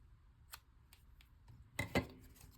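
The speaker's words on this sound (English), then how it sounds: "Some scissors here." Quiet scissors snip several times at close range, a few faint separate cuts followed by two louder, sharper snips near the end.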